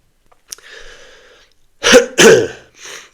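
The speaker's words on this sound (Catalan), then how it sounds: "Tos, també, inclosa dins del constipat." A breathy intake is followed by two sharp, loud coughs close up, then a softer trailing exhale.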